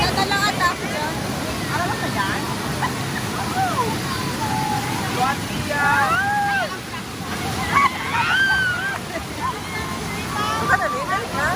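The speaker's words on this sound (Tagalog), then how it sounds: "Flowing lang pala yung tubig niya, galing sa bukal." Clear spring water flows steadily from its source at Orok Cold Spring Resort in Sorsogon, a continuous rushing wash heard up close beneath a family crowd's chatter, calls and occasional whistles.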